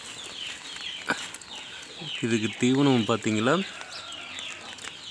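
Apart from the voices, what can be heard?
native fighting rooster clucking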